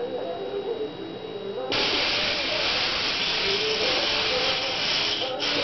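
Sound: airbrush spraying paint

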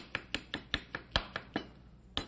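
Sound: chopping peeled tomato finely with a knife

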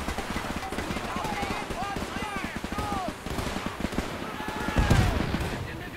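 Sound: mortar firing at a machine gun nest in video game Men of War 2

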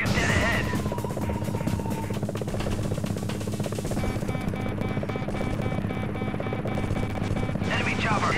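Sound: helicopter rotor sound from video game Gunship 2000 on Amiga

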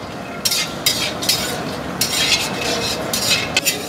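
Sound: cashews roasting and being stirred in a pan

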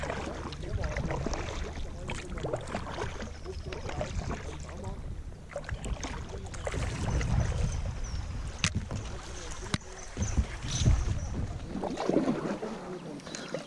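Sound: kayak paddling along a river side arm

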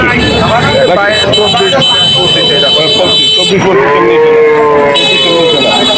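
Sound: cow (heifer) mooing at a cattle market

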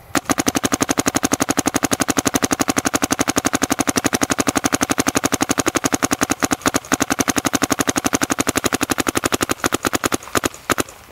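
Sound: Dye DM4 paintball marker firing a pot of paint

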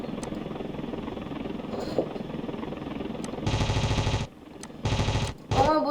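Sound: gunfire from aircraft in a video game

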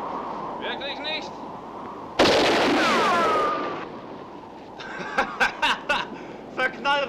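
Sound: gunshots in a western film

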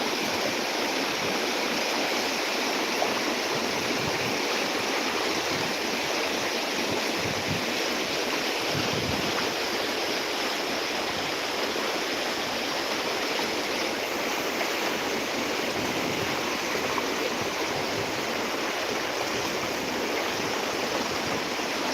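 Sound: floodwater rushing, Kase village flood

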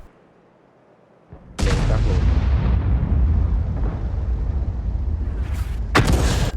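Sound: T92 HMC artillery gun firing in World of Tanks video game

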